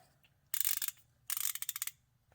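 Two close bursts of rapid ratchet clicking, each under a second long with a pause between, as an E12 star socket works on axle bolts.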